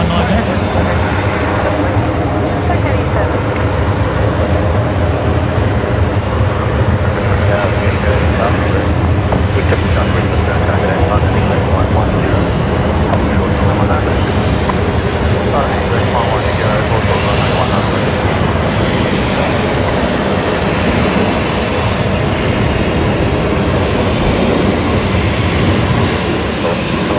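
Velocity 346 jet airliner on its takeoff roll from runway 19 left at Brisbane Airport at night, a loud, continuous broadband engine roar that holds steady throughout, with voices talking over it.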